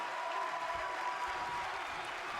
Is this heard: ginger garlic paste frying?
no